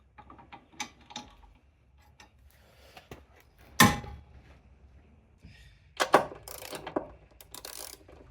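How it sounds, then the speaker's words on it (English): A ratchet cracking loose the suspension nuts and bolts on a Nissan Silvia S15 during a lowering job, heard as scattered clicking bursts with a few sharper louder pulls, close by in a quiet workshop. "So first I'm going to go around and crack loose all of the nuts and bolts that are required to be removed."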